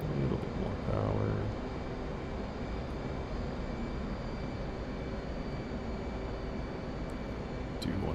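The F/A-18C jet engine roars steadily in the flight game DCS World during carrier operations, a broad continuous drone that rises briefly as power comes up.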